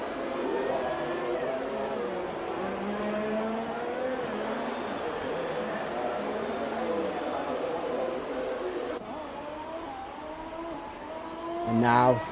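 F2 race car engine in a racing video game, whining and climbing in pitch through repeated upshifts, steady and near, with a commentator talking over it.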